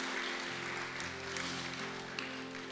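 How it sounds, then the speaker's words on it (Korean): A church congregation claps together during a Sunday worship service, a soft, distant, steady patter of applause continuing throughout. "나오실 때 우리 박수 한번 하실까요?"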